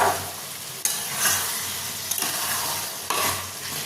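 Chicken liver curry stirred in a pan over a high flame, a steady oily sizzle broken by several scraping stirs and spatula knocks at intervals, close and alone with no talk.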